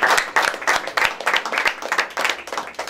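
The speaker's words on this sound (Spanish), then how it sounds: "Un aplauso" Loud applause from an audience at a uniform handover ceremony, with dense, close claps pulsing in quick bursts and no voices over them.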